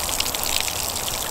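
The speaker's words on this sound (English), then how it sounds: "The church has got a little water tap." Water runs from a small outdoor tap at a 13th-century village church, a steady close splashing patter with no speech.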